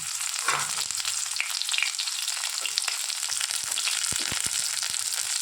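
Pieces of drumstick (sajne data) frying in oil in a pan for an okra and drumstick dal, a close, bright crackling sizzle with a few soft thumps of a spoon, and no voices.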